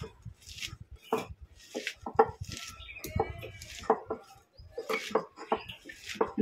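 Sliced onion is squeezed and mashed by hand with dry spices and salt in a bowl, making soft, irregular squelching and crunching sounds, close and fairly quiet, with no talking.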